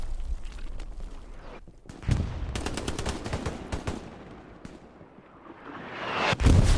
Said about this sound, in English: Artillery falls to the rears